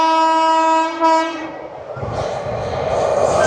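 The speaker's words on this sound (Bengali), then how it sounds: "কর্মভূমি এক্সপ্রেস" The Karmabhoomi Express sounds a long, loud horn blast as it approaches, then rumbles past close by with rolling wheel and carriage noise.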